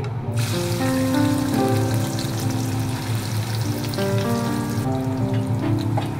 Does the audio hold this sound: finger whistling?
no